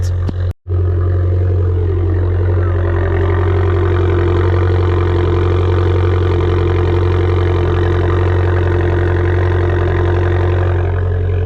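An Abarth 595 Turismo with 165 horsepower idles steadily just after a cold start, a loud, close, throaty hum that holds unchanged after a brief opening catch, with no one talking.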